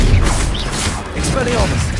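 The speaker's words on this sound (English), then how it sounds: "Protego!" A Protego shield spell flares during a Hogwarts Legacy duel, a loud, dense burst of magical whooshing and shimmering with mechanical clanks and a low thud at the start.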